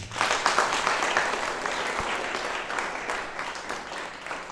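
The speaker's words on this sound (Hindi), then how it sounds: "तालियां।" Loud, sustained clapping from a school audience during a mathematics session in Shimla, a dense continuous patter of many hands filling several seconds at steady strength.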